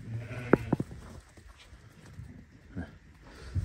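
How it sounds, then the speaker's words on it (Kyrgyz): A small lamb bleats twice in quick succession, fairly close, among sheep being shown for sale on a farm, with faint background noise and a few other soft animal sounds afterward. "Кичинекей коз."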